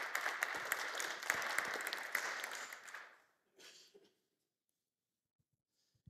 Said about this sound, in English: A big round of applause to Matt Peggs.